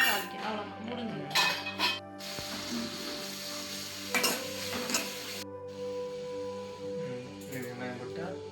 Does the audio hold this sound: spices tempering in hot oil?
yes